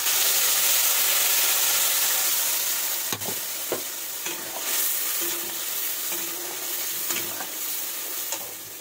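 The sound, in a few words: spice paste being added and fried in pan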